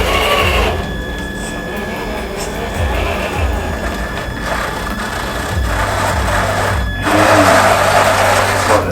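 A Traxxas TRX4 RC crawler grinds up an incline with a steady electric motor whine and gear hum, close and continuous, with a slight change in load near the end.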